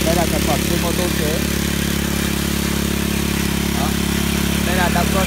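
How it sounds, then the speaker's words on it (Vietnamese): A motorcycle engine fitted to drive a water pump runs steadily at idle with a mechanical clatter, close and loud throughout, while someone talks over it. "Đây là động cơ xe máy anh em nhé, động cơ xe máy."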